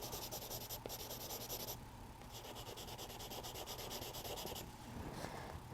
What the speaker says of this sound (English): I'm just going to kind of erase